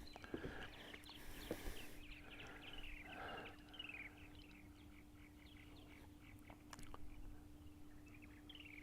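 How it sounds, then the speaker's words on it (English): Purple martins chirp and twitter around their nest houses on eastern Long Island in spring, a scattering of short calls that sound fairly faint and distant against a steady background hum. "I think we can hear some of the birds chirping in the background as they're on the houses and they're flying around"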